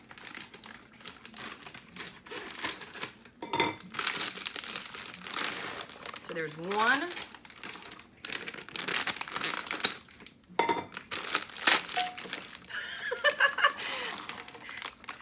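Plastic crinkles and rips continuously up close, with snipping and tearing noises; a voice speaks briefly amid the rustling.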